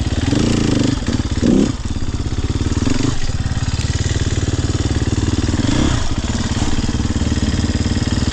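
A 2023 Sherco SEF 300 dirt bike engine runs loud and close throughout wheelie practice, a continuous throbbing drone broken by several sharp throttle blips and revs, with no talking.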